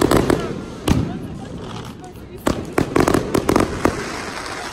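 Fireworks burst with sharp crackling pops and bangs, some close and loud, others scattered, over a noisy crowd with people talking throughout.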